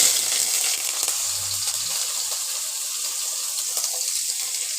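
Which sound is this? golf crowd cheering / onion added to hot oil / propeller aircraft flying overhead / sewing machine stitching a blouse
onion added to hot oil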